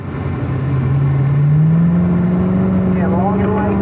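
A Corvette Z06 on a race track accelerates out of a corner, its engine note rising steadily in pitch as it pulls hard, loud and close, with a person talking over the drone near the end.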